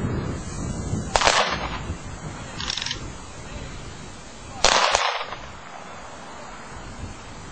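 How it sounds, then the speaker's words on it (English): Rifle volleys of a 21-gun salute ring out at an outdoor graveside funeral, three sharp cracks spaced a few seconds apart at moderate distance, with wind noise buffeting the microphone between them. "Then there was a 21-gun salute and the playing of taps."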